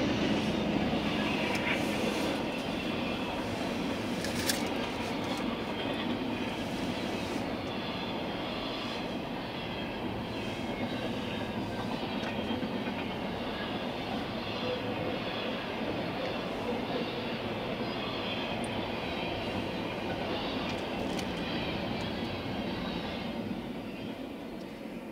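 A long CSX freight train carrying containers rumbles past steadily, a continuous rolling clatter with faint metallic squeals, holding fairly even loudness throughout.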